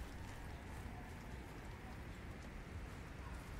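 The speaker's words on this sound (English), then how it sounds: "Okay, that was the hail." Hail falling in Subnautica Below Zero, a dense, steady rush of pelting ice that stays even and loud throughout with no pauses.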